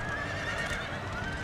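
Cavalry horses in a Napoleonic-era battle game give a short neigh over a busy wash of battlefield noise and faint hoof clatter.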